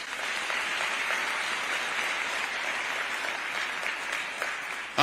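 Sustained applause from a large audience, a dense even wash of clapping that continues for several seconds.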